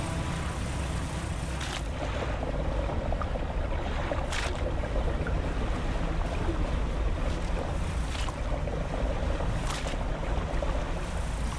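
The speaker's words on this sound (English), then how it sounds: "I should probably rotate without my engine running." Boat engine rumble on open water in the fishing horror game Dredge, a constant loud low drone with wind and wave wash laid over it, steady for the whole stretch with no voice.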